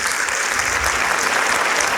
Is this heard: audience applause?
yes